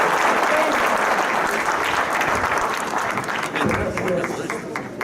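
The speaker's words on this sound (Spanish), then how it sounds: "vamos a pedir al público, por favor, nuevamente los aplausos para esta exposición" An audience applauds after a talk by a nuclear scientist on the joy of science, steady dense clapping filling the room from start to finish, with some voices mixed in.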